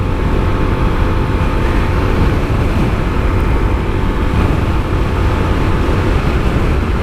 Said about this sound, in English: Bike is running like a top.